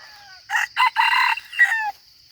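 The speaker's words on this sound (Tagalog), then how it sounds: "Yan yung maririnig nyo, tumitilaok yung labuyong alpas." A wild junglefowl (labuyo) rooster crows once, a clear broken cock-a-doodle call lasting just over a second, standing out against a quiet background with a faint high insect hum.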